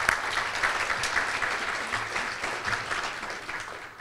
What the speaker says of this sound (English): So please give GISA a round of applause for being today's luncheon sponsor.